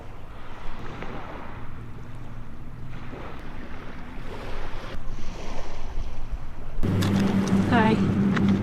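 Wind buffets the microphone on a beach as waves wash in steadily, with a rougher, louder gust near the end and someone speaking faintly in the background.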